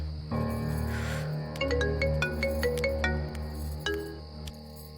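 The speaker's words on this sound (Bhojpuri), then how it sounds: "ए दीदी, ये देखी फोन आइल बा।" A phone's musical ringtone signals an incoming call, a string of bright plucked melody notes ringing out over a sustained low tone, fairly loud and close with no talking.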